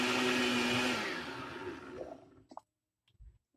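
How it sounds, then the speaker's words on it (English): A kitchen blender whirs loudly through chunks of peeled cassava and sweet potato for a Jamaican blue draws pudding, the motor steady, then winding down and stopping, followed by a few faint clunks. "in my blender, I wash and peel and cut my cassava and my sweet potato into small pieces, and now we're gonna blend"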